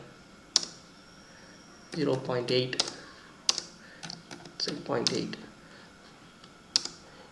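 Clicky keystrokes on a computer keyboard as values are entered into lab software, a few isolated taps spaced through the clip while someone talks over them at close range.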